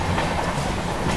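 A Duronto Express sleeper train running from Ernakulam to Mumbai LTT pulls out of Karmali station, its carriages giving a brief, steady rolling rumble with a faint clatter of wheels.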